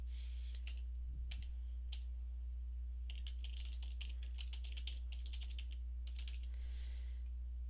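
Typing on a computer keyboard while a web address is entered into a Facebook account form, with bursts of quick clicky keystrokes over a steady low hum.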